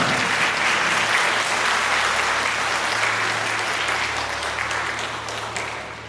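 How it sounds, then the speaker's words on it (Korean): Wedding guests in a Gwangju wedding hall burst into sustained applause for the bride and groom, a dense, steady wash of many hands clapping that slowly tapers toward the end, with no talk over it. "박수 부탁드립니다."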